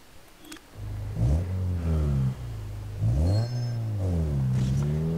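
A Nissan 240SX engine in Need For Speed Underground 2 revs up in three or four rising and falling sweeps, close and loud, with no talk.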